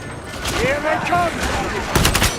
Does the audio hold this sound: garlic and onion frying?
no